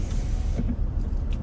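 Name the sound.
electric car window sunshade motor after button press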